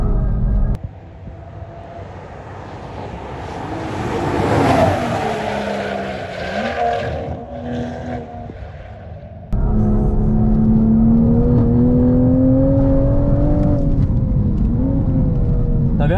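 A lowered Toyota Supra on a race track, its engine droning loud and close, rising and falling through revs, then a sudden jump to a steady, louder high-revving roar with a pitch that climbs and wavers.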